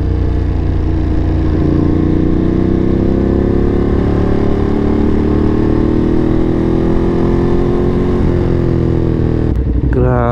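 A Ducati Monster motorcycle is ridden with a loud, continuous engine roar that rises slowly in pitch, then a brief burst of crackling exhaust pops near the end.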